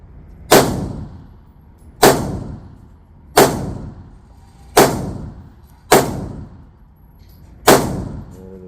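An Apollo 11 compact 1911 pistol fires six loud, sharp shots, evenly spaced about a second and a half apart, each with a short ringing decay; no voices.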